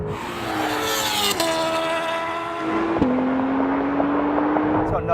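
A Honda NSX and a 2018 Honda CBR1000RR drag race. A loud, close engine note climbs steadily in pitch, then drops sharply at two gear changes and starts climbing again, with road roar underneath.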